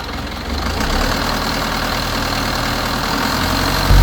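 A car engine idles steadily while its radiator, freshly cleaned and refilled with blue coolant, is checked with the cap off; a loud, even rumble with a slight rise in revs near the end.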